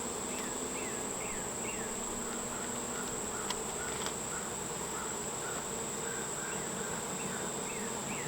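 Honey bees swarming around an open hive during an inspection, a dense, steady buzzing hum with individual bees whirring past close by, continuous and moderately loud, no voices.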